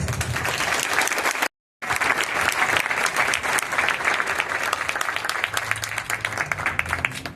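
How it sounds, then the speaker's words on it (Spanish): A book-launch audience gives loud, sustained applause for author Roberto Venegas, dense overlapping clapping that carries on steadily after a brief dropout. "permítanme solicitarles un fuerte y caluroso aplauso para el creador de este gran anecdotario"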